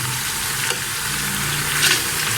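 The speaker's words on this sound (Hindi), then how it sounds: "इसे हम 10-15 मिनट के लिए अच्छे से भूनेंगे" Half a kilo of beef pieces frying in spices for nalli nihari, a close, continuous sizzle with brief stirring scrapes and a low hum underneath, no speech.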